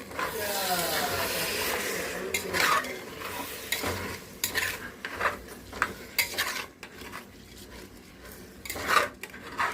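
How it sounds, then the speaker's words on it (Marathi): Rice and prawns are stirred and scraped around a pan with a ladle, rapid scratchy strokes over a light sizzle, close by. "यामध्ये मी राईस टाकते राईस टाकून घेतला आहे मी जरा परतून घेते कोळंबीसोबत"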